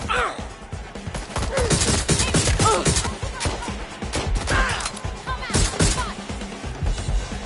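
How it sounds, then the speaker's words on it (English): Gunfire in the Watch Dogs: Legion video game, a loud chaotic burst of sharp repeated shots and crashing impacts spread across the whole stretch, close and dense with no talking. "Shots fired!"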